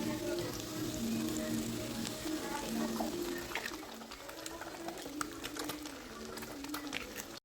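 Two cracked eggs frying in hot oil pushed to the middle of a pan, a steady close sizzle with faint spoon and pan clatter running all the way through.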